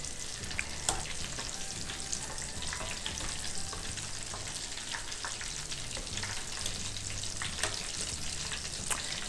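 Shrimp deep frying in hot oil: a steady, moderately quiet bubbling sizzle with occasional sharper pops and crackles, heard alone without speech.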